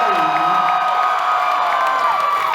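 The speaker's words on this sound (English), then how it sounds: "let's give it an even louder welcome to Charnas from Ice 9 Kills" A convention panel audience cheers and whoops for a special guest at a horror and Halloween fan event, a dense, loud and sustained crowd roar with shouts and high whistles rising throughout.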